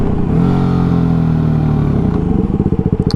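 A Yamaha WR250R motorcycle rides along a twisty, hilly road, its engine droning steadily and loud before easing off into a lumpy, pulsing rumble near the end.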